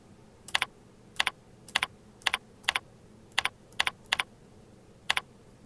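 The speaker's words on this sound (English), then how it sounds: "Type in a title for your announcement in the Headline field." A computer keyboard is tapped in evenly spaced pairs of crisp clicks, close and clear over faint room noise, with no talking.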